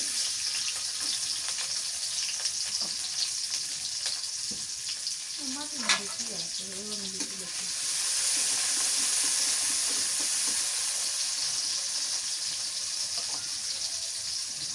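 Onion hitting a hot pan of oil for a rui fish and potato curry cooked outdoors in a village, a steady sizzle that briefly flares and then settles into a louder, even frying hiss.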